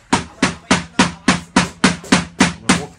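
A hammer strikes a Philips TV screen nine times in a steady rhythm, each blow a sharp, loud, close impact with a short ringing decay.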